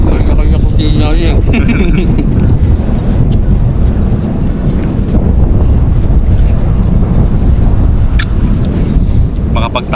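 Strong wind buffets the microphone in a loud, constant roar, gusting without letup for the whole stretch, while voices talk faintly beneath it.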